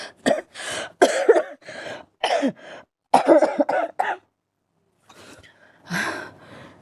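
Several harsh, throaty coughs come in quick uneven bursts, close to the listener, followed by a short quiet pause and then softer throat-clearing sounds.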